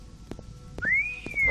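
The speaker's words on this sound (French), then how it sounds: "Tu siffles qui là comme ça" Rising whistled tone in the video game Morrowind, set in a bandits' cave east of Caldera, sounding once at moderate loudness for about half a second, preceded by faint clicks and ambient noise.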